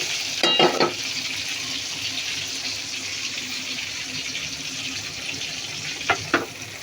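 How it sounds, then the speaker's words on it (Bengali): Chicken frying in oil makes a steady, even hiss, with a couple of brief clatters of utensils near the start and end. "এগুলো হবে চিকেন ফ্রাই, এগুলো হয়ে গেছে।"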